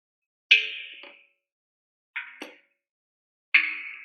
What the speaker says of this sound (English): almost like gong type sound